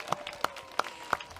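A few isolated, evenly spaced claps ring out faintly in a quiet space at a Legoland California Christmas tree lighting, following a holiday music group's performance.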